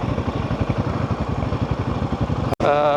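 A Royal Enfield Himalayan 450 motorcycle engine held at steady mid revs, pulsing rapidly and evenly up close, with a brief cut near the end before it resumes.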